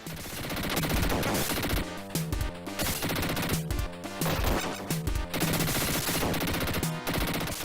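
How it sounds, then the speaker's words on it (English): Gunfire hitting Itchy in the 1991 Mega Drive game Dick Tracy: rapid loud bursts of chiptune-style shots repeating in a steady rhythm, layered over busy synthesized game music. "Itchy's taking a lot of bullets"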